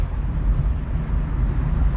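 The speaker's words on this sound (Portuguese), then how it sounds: "soltar o freio e começar a acelerar" Car pulling off during a driving school lesson as the brake is released and the throttle applied, a loud, steady low engine drone and road rumble filling the cabin without talk.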